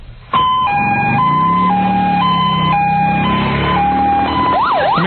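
Sirens wail from a motorcade of emergency-style vehicles heading to Kennedy International Airport amid protesters, a loud, continuous two-tone siren cycling steadily, joined by a rising-and-falling whoop near the end, with traffic rumble beneath.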